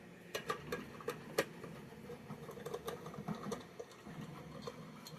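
Screws being worked out of sheet metal on a 1960s Korean-made Space Explorer Moon-1 tin toy spaceship, heard as a run of small, close metallic ticks and scrapes over a soft background hum.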